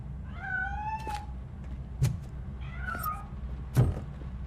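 A cat meows in the video game RoboCop: Rogue City, two drawn-out wavering meows about two seconds apart, fairly near, with a couple of dull thumps in between over a low background hum.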